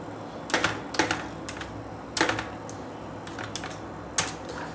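Typing on a computer keyboard while writing in MS Word: a few short clusters of crisp key clicks separated by pauses, close and fairly clear, with no talking.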